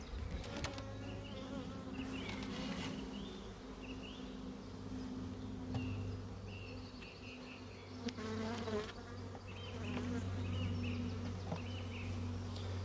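Honeybees from a three-week-old package buzzing inside a national brood box hive, a steady dense drone of many wings close by with occasional louder passes.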